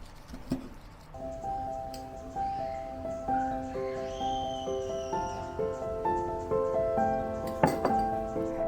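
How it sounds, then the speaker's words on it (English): Homemade char siu Chinese barbecue pork being cut into thin slices with a knife, a few soft close knocks and taps of the blade on the board, heard under gentle melodic background music. "So I'm going to cut it into thin slices to serve."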